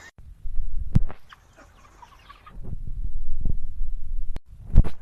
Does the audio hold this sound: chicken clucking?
yes